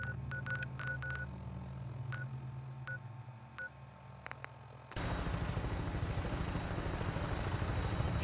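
A Vertibird helicopter in the Fallout 4 video game spools up for takeoff: a pulsing rotor drone with beeping interface tones, then a loud, dense rotor roar taking over for the last few seconds.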